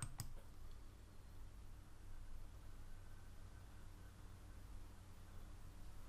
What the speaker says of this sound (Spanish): acerco el ratón a nosotros y hago clic en ver para visualizar esta página